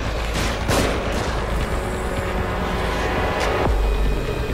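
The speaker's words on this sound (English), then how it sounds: "Who's he shooting at?" Gunfire rings out in The Evil Within video game, with a few sharp shots standing out against a loud, dense backdrop of game noise and rumble.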